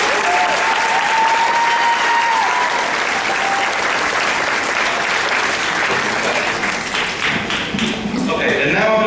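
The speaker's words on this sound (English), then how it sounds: "Can you please give them a round of applause for their" An audience at a graduation ceremony breaks into loud, sustained applause, dense clapping that fills the whole stretch, with a voice speaking briefly over it early on.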